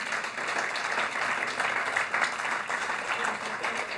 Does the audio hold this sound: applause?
yes